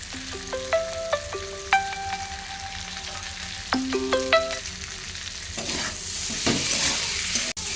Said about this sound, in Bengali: ভালো করে এটাকে কষাবো।